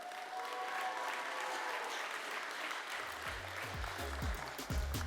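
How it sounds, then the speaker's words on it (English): Large convention audience applauding FFA competition participants in a big hall, a broad, steady roar of clapping heard from a distance, with low rumbling bumps toward the end. "let's give them a big round of applause to show how much we appreciate"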